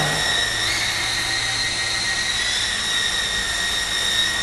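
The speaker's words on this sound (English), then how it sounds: "it is an absolutely fantastic helicopter to fly" Radio-controlled model helicopter engine running steadily outdoors, a loud, constant high-pitched whine with a sustained droning roar and no break, no voices.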